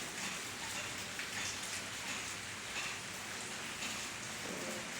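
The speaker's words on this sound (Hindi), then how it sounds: "तो देखो बारिश बहुत ज़्यादा बारिश पड़ रही है।" Heavy rain pours down steadily outside a home, a dense, continuous hiss of drops hitting surfaces with no break and no voices over it.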